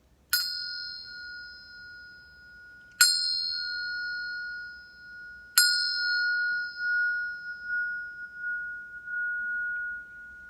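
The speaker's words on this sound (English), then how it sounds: "I'm going to finish by hitting the bell 3 times." A bell struck three times at a steady, unhurried pace, each clear ringing strike sounding alone and loud before its tone fades out slowly, with the last ring lingering longest.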